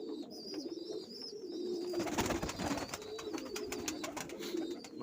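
Pigeons coo steadily during winter feeding, young birds among them eating grain, with soft overlapping coos and a busy flutter of activity rising after the first couple of seconds, moderately near.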